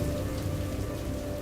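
Steady rain falling in a dense, even wash of close hiss and patter, with no pause.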